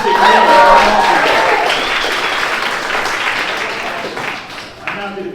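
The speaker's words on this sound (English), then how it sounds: "Make some noise for Brendan and all the other comics tonight." A comedy club crowd in Tacoma applauds loudly with some cheering, the clapping gradually thinning out toward the end.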